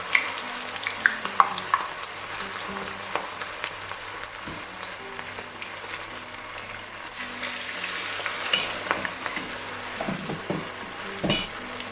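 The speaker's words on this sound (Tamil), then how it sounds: "இனி நான் மேரினேட் பண்ணி வச்சுருக்கிற சிக்கனை பொரிச்செடுக்க போகிறேன்." Marinated chicken deep-frying in hot oil for devilled chicken, a continuous bubbling sizzle close by, with occasional clinks of utensils against the pan and no talking.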